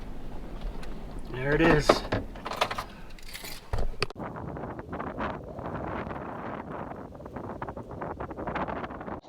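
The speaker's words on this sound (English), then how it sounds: "It is incredibly windy today." Strong wind buffets a parked van by the water, a loud rumbling roar with gusts across the microphone, while a person speaks briefly over it near the start.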